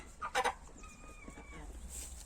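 Hens in their run, with a burst of short, loud clucks near the start, then a drawn-out call and softer scattered clucking, all close by against a quiet background.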